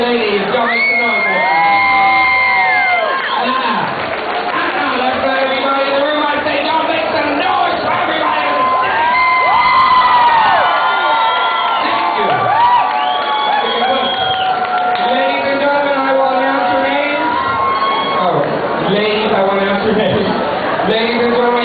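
A roomful of people at an evening women's contest cheers, whoops and yells without a break, a loud sustained crowd roar with shouted voices rising over the din.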